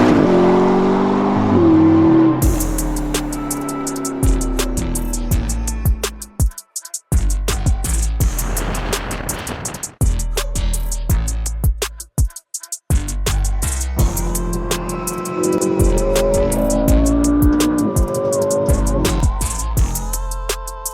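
A McLaren sports car drives on the open road, its engine revving and shifting through gears with repeated loud rises and drops in pitch, brief lulls between pulls, close and alone without talk.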